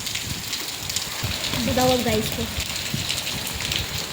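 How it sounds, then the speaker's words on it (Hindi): Steady rain falls outside on a street that floods and blocks with water, a broad hiss running throughout with people talking over it. "तो आप देख सकते हैं बारिश।"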